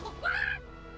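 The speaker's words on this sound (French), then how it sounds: "Ce bruit. Ce bruit de poulet." Chicken cluck from the video game World of Final Fantasy: a single short, faint squawking cluck over soft game background sound.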